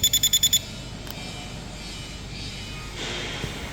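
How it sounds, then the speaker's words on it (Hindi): A motorized door remote emits a quick run of six sharp electronic beeps while door limits are set, then falls to a low steady hum with a brief faint tone later. "ये बीप का आवाज़ आना बंद हो गया, कन्फर्मेशन टोन आया और लाइट जो है वो कंटिन्यू ऑन हो गई"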